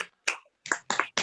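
A classroom of students performing a rhythmic clapping pattern, several short, sharp bursts of claps in quick succession with brief pauses between, close and without voices.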